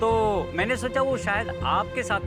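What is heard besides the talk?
No distinct noise like a dog, phone or traffic.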